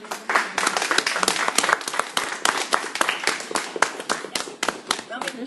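Audience applause at a first-time public speaking event: a crowd claps steadily for several seconds, with dense overlapping claps and sharp individual hand slaps standing out near the listener.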